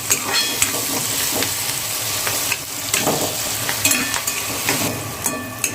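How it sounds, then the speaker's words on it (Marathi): Onion frying in oil in a pan for a vegetable dish, a loud, close, continuous sizzle with crackly pops and light stirring scrapes throughout. "चांगला आपला कांदा जो येतो मस्त आपण असा कलर येईपर्यंत थोडासा फ्राय करूया."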